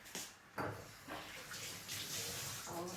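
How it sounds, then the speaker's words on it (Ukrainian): Tap water pours into a pot of spring soup made with egg, a continuous hissing, splashing stream that stays fairly quiet and steady with a few small surges, and no talking. "І додаємо водички."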